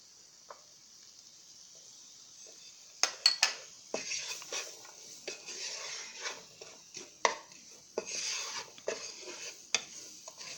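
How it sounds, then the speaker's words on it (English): A knife chops mushrooms on a board in a quiet kitchen. After a near-silent start, a run of sharp, irregular knocks follows, close and fairly crisp. "In the meantime, I am just cutting up the mushrooms."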